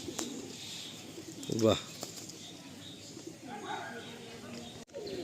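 Giribaj and Madrasi pigeons in a loft give a short burst of low cooing amid faint rustling, while people talk over it.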